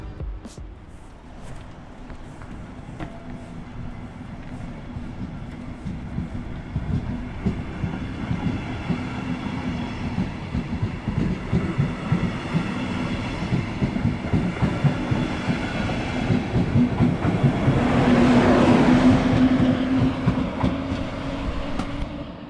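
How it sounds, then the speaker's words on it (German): Steady rumble and rhythmic clickety-clack inside an RE19 replacement train made up of DR double-deck coaches, continuous and close throughout, growing slightly louder near the end, with no talking. "die Fahrt mit den sehr außergewöhnlichen und leider schon seltenen DR-Dostos"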